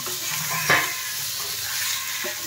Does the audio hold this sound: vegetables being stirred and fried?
yes